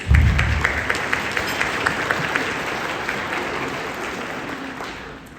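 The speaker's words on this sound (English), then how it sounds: "We can give them all a round of applause." A luncheon audience breaks into a dense round of applause that starts with a loud burst and then fades gradually over several seconds.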